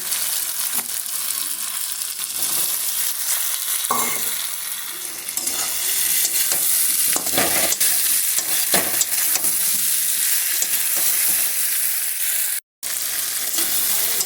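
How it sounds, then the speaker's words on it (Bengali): Beetroot and potato being stir-fried with tomato and spices in a pan: a loud, continuous sizzle with scraping stir strokes throughout, broken by a brief silent gap near the end. "এখন আমি বিট আর আলুটা দিয়ে সবগুলো একসাথে ভালোভাবে কষিয়ে নেব।"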